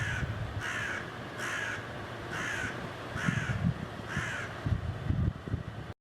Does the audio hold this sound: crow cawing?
yes